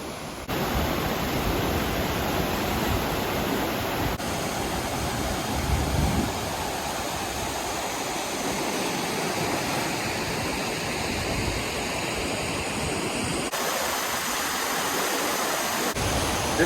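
An unnamed waterfall on Cape Breton, Nova Scotia pours in a steady, loud, broadband roar that continues unbroken throughout, with no speech over it.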